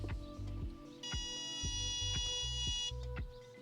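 A high electronic beep from a Bluetooth OBDII car scanner sounds steadily for about two seconds over a quiet low hum, without anyone speaking.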